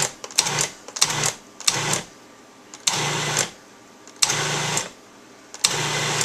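A food processor pulses cold pie crust dough in six short, loud bursts, each about half a second, separated by brief pauses.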